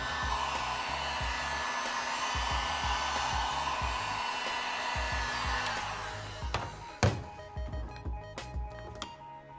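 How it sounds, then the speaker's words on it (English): A heat gun warms the permaseal around a Ferrari 488 GTB headlight, blowing with a steady, close roar for about six seconds before cutting off, followed by a few sharp clicks and taps. "I'll heat this section up and try my best to get it loose."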